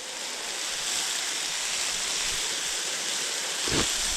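Liquid pours steadily into a kazan over lamb plov ingredients on an open fire outdoors, a continuous broad rushing wash that swells slightly near the end, with no talk.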